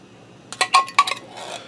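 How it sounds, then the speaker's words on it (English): A metal spoon scraping and clinking inside a 10.5 ounce can of golden mushroom soup, a few quick close taps followed by a softer scrape. "Let me grab a spoon so I can get all that goodness out of there."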